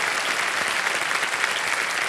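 A studio audience on the game show KBC Season 15 applauds a contestant who has just won 12,50,000 rupees: dense, steady clapping that fills the room at full strength without pause, with no voices over it.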